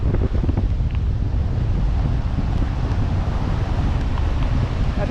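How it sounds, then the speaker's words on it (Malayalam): Rough sea waves surge along a rainy coast in steady, heavy rushing noise, with strong wind gusting across the microphone and no distinct breaks. "തിര കാര്യമായിട്ട് കരയിലേക്ക് കയറുന്നില്ല നല്ല തിരയുണ്ട്"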